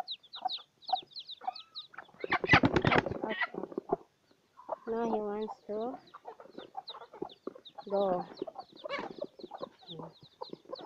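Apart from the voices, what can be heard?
rooster clucking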